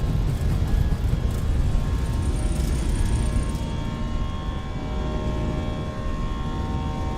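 Airbus A319 with IAE engines on its takeoff roll in the MSFS 2020 flight simulator, a loud steady jet roar with rising tonal whine, close and continuous, with no talking over it.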